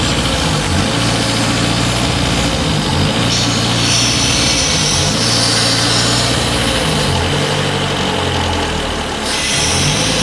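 A Renault Twingo engine idles with a faulty idle actuator that will not close properly, a loud, close, continuous mechanical drone with a subtle periodic waver in the low rumble and steady hiss, no voices.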